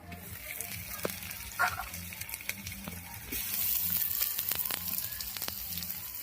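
Tomatoes drop into a hot frying pan on a rooftop cooking setup, giving a steady close sizzle with scattered crackles and small clinks, the frying growing louder and denser partway through as faint music plays in the background.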